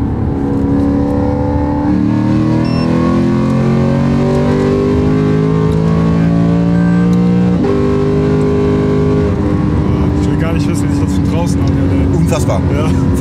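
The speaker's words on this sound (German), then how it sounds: "Das hört sich jetzt schon wie so ein Rennwagen an" A Lexus RC-F with aftermarket headers accelerates on the autobahn, its engine note climbing steadily with a gear change around the middle and droning loud and close throughout, with people talking over it inside the car.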